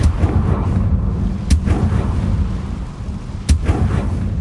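Confringo blasting spell in Hogwarts Legacy set off against a deep rumbling backdrop, with two sharp explosive cracks spaced a couple of seconds apart over the low roar.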